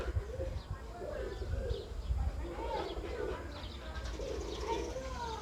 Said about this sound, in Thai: นกพิราบครับ